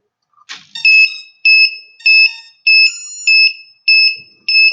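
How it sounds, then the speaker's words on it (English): A loud electronic buzzer on a tilt-rotor drone beeps in a repeating pattern of short tones, about seven beeps with brief gaps, close and alone. "let's disconnect the buzzer"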